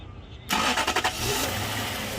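A Toyota Tundra engine cranks and catches after a fuel pump cut relay fault is fixed, with a short burst of starter chatter followed by the engine settling into a steady run.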